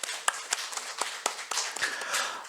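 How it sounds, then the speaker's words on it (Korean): A church congregation claps in encouragement during a Sunday service, with a sparse, uneven patter of hand claps that come in a few louder, separate slaps over a quieter scattered background. "우리 격려 박수 하겠습니다"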